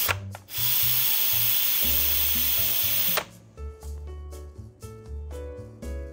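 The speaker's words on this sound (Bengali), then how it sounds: "30 মিনিটস পর প্রেসার রিলিজ করে দিচ্ছি।" Steam hisses loudly from an Instant Pot's release valve after a long pressure cook of mutton haleem, a steady high rush that cuts off abruptly partway through, leaving faint kitchen clatter and background tones.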